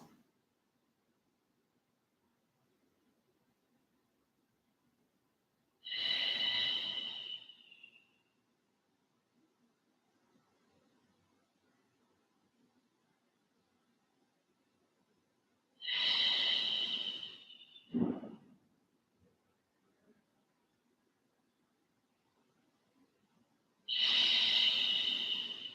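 Slow, deep breaths during a yoga practice, three long airy exhales spaced several seconds apart with near silence between them, close and fairly soft, with no talking.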